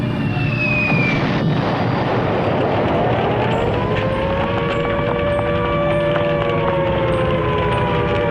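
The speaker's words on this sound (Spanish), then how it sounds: "los sonidos de los bombardeos, explosiones y sirenas" A loud wailing World War II air raid siren slowly rises and sustains its drawn-out tone over a dense, rumbling background roar.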